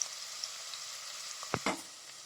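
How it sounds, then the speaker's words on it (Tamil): Ginger garlic paste sautés in a pan with a soft, steady sizzle, broken near the end by a couple of sharp scraping or stirring knocks. "இஞ்சி பூண்டு பேஸ்ட் பச்சை வாசம் போகிற அளவு நல்லா வதக்கிக்கோங்க"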